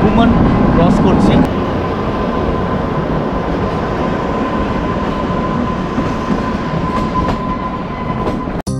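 Kalka-Shimla toy train, the Shivalik Deluxe Express, rumbling along with a steady broadband roar and faint clickety-clack, heard from inside the carriage with a thin whine and occasional knocks, no voices.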